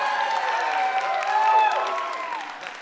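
An audience at a marching band parade ceremony in London cheers and applauds, a sustained wash of clapping with rising whoops and shouts that gradually fades.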